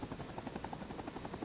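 An OH-6 Loach helicopter in Rising Storm Vietnam, its rotor chopping in a fast, even pulse at moderate loudness and holding steady throughout.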